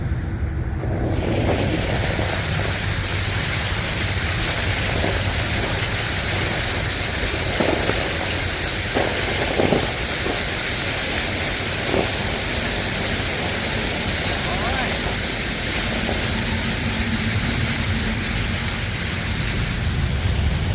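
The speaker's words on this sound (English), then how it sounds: "Water coming up through the bonnet." Loud, steady rushing of water under pressure coming up through a fire hydrant bonnet, a continuous broadband roar with faint occasional clanks and no voices.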